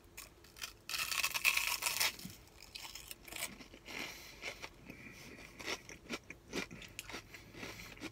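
Someone bites into crunchy Walla Walla onion rings from Burgerville, giving one loud crisp crunch early on, then softer, scattered chewing crackles close to the microphone.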